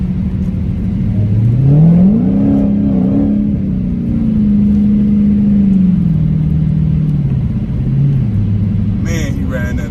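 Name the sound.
Dodge Hellcat car accelerating on wet road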